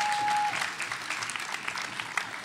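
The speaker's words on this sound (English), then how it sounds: "Applaud your poets, not the silly scores." An audience at a school spoken word poetry event applauding the poets, steady clapping from a room of people following a short tone, fading slightly toward the end.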